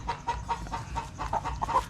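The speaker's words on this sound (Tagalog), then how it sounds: "Pagkagandang manok." A 5-month-old crossbred chicken clucking in short, repeated, fairly close calls, alone with no talking.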